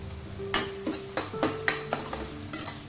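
Turmeric, red chili powder and garam masala being sautéed in a pan for pasta produce a faint sizzle under a regular series of sharp spoon clinks and scrapes against the metal, about one every third of a second.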